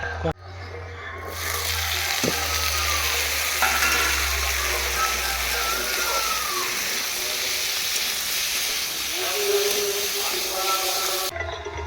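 Whole tempering spices dropped into hot oil for a Bengali fish curry, a loud, continuous crackling sizzle that sets in abruptly and runs steadily before cutting off, with a voice speaking briefly.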